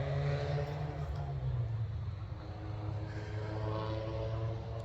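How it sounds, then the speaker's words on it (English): A loud car blares past outdoors in the morning, its steady engine roar filling the clip and dipping slightly in pitch as it goes by. "I love it when like a really loud car just decides to go blaring by as I'm trying to say something"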